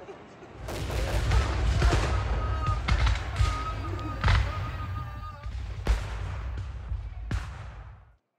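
A ragged volley of gunfire fired on a sergeant's order, many close, loud, sharp shots cracking irregularly over several seconds, then cutting off abruptly.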